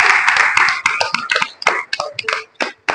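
Audience applause at a French reading event, a burst of hand claps that thins into scattered, uneven claps before a final few, fairly close and with no voices over it.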